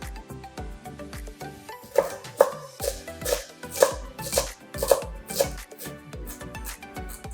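A knife chops cilantro (coriander) stems on a board, with a series of brisk, evenly spaced cuts in the middle of the clip and lighter taps before and after.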